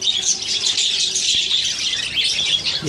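Budgerigars, one female among many males, chirping and chattering in a dense, continuous flock of high, overlapping tweets and squawks, close and steady throughout.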